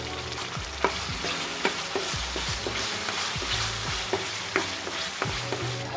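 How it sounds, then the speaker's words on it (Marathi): Masala spices with chili powder, garam masala and salt roast in a pan for village-style chicken rassa while a spoon stirs and scrapes in a steady rhythm over a constant close sizzle. "अजून 5 मिनिटं अजून मसाला आपण भाजून घेऊ."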